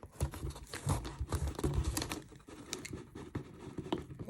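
Fiberglass-reinforced adhesive tape yanked hard off a plain cardboard box, giving a series of quiet crackling, ripping bursts and sticky pops in irregular rhythm, close by, with no voices.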